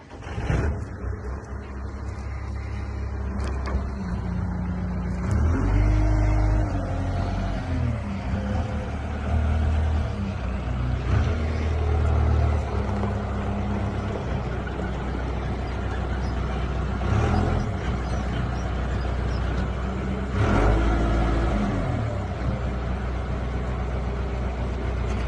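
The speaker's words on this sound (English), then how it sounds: "Jim's in the Manitou, and Jim's job now is to crush the frame up" A Manitou telehandler crushes a Suzuki quad bike frame in a yard, its diesel engine revving and labouring in surges with metallic creaks and crunches, fairly close, no voices.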